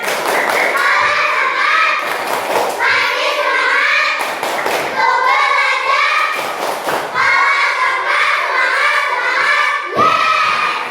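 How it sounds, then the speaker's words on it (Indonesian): A class of children in an Indonesian classroom does the "tepuk semangat" rhythmic clapping chant, loud patterned bursts of claps in steady groups alternating with the children's shouted chanted words, close and lively. "Tepuk semangat."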